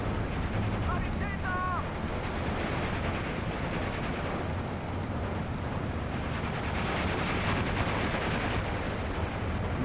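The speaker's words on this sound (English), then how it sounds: "We just have so much rocketry coming in here." Incoming rocket artillery barrage in the WWII strategy game Steel Division 2, a dense, continuous roar of rumbling impacts and explosions at steady loudness, with faint voices in the mix.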